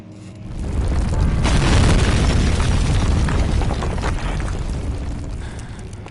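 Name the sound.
cave-in collapse in video game Amnesia: The Dark Descent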